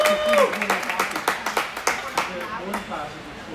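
A girls' U16 hockey team, the Barrie Blizzards, shouts a pre-game cheer in an arena, with rhythmic clapping and voices echoing through the rink while a commentator talks over it.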